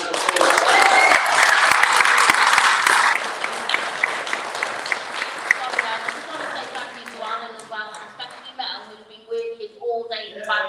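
Audience applause fills a meeting room at the Friends Meeting House, a loud dense burst of clapping for about three seconds that thins into scattered claps and voices talking.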